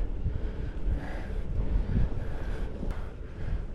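Wind rushes across the microphone while cycling along the Danube river route, a constant low roaring buffet with no break.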